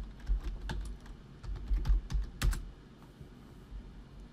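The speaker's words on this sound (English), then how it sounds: "I just have to type mine in as normal" Fingers type a password on a computer keyboard, producing close, irregular clusters of light key clicks with a few louder taps and brief pauses.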